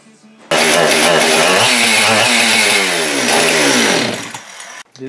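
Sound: Husqvarna 562xp chainsaw engine running

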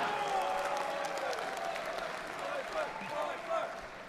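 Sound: audience clapping and applauding

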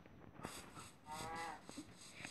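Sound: cow mooing in the video game Minecraft

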